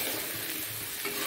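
Curry with spices frying and being stirred in a pan, a steady close sizzle with scraping stir sounds running throughout, no voices.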